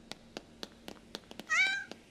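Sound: cat meowing

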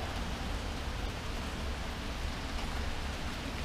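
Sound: rain falling

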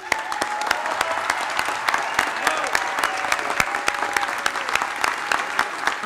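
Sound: audience applause

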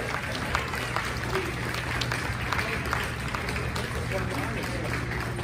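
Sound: audience applause at Hall of Fame ceremony

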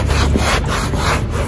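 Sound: wiping motorcycle seat with cloth

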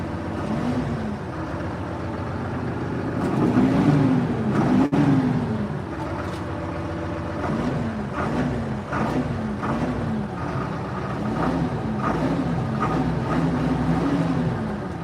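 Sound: mini tractor engine running quietly

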